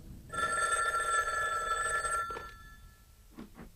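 A telephone bell rings in one sustained, shrill trill for about two seconds, then stops, followed by a few faint clicks in a quiet room.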